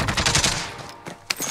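Gunfire rattles in a video game shootout, a loud close burst of rapid shots, a pause, then another sharp crack and more firing.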